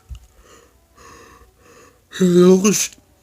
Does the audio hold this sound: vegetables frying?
no